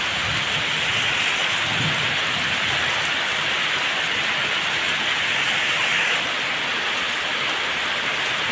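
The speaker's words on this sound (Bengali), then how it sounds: "প্রচুর পরিমাণে বৃষ্টি হচ্ছে।" Heavy pre-monsoon Kalbaishakhi storm rain pouring steadily and loudly throughout, a dense constant hiss with low thunder rumbling underneath, no voices.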